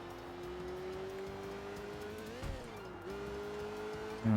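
Car engine in the Sleeping Dogs video game, a steady droning hum as the car drives along, with a brief bump and a pitch dip midway, then a rise near the end, moderately loud and without talk.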